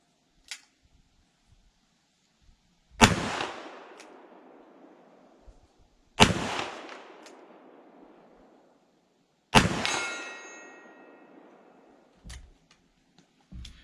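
Three sharp shots from a lightweight S&W 329PD .44 Magnum revolver at a steel plate 40 yards away, each a loud crack with a ringing decay that fades over a few seconds, evenly spaced, followed by faint clicks.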